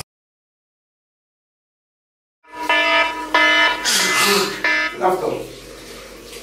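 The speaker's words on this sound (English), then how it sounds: "My alarm." After a stretch of silence, a morning wake-up alarm starts beeping in repeated pulsed bursts, fairly loud and close, with a few rustling movements mixed in, during a trip on Aegina island.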